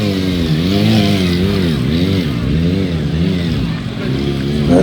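A motorcycle engine revs loud and close during a rear-wheel wheelie stunt by a stunt rider, its pitch rising and falling in steady repeated waves for several seconds.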